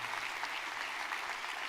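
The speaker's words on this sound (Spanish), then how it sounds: "Así que dale a Dios un fuerte aplauso por su paternidad." A church congregation bursts into applause during a sermon, a thick, even patter of many hands clapping at moderate loudness, continuous and unbroken with no talk over it.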